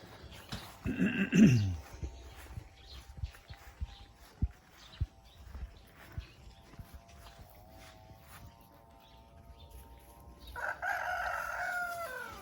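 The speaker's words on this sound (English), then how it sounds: "We'll take a look at Brian's chicken setup here." Roosters crow and chickens cluck at a chicken setup on an inland farm in the Philippines, one loud nearby crow early, a long drawn-out crow in the middle, and another at the end, over scattered clucks and farmyard noises.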